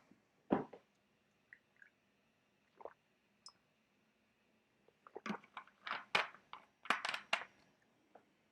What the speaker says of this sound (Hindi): मैं इतने पानी पी लूं।